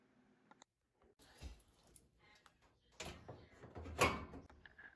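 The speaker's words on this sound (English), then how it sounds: "Once the top of the door panel clicks into place" The door panel of a Speed Queen clothes dryer being fitted back on during a heating element repair, with plastic rattles and a sharp click as it snaps into place, close and quiet.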